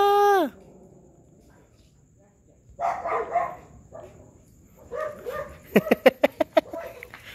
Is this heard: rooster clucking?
no